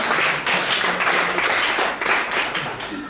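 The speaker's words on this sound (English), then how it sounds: "Clap for yourselves." A conference audience of parents and teachers claps steadily and loudly for about three seconds, dense overlapping applause with slight surges in intensity.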